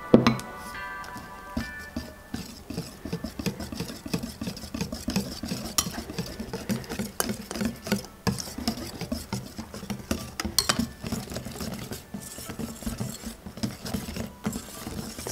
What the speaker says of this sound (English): for the remaining cream you fold in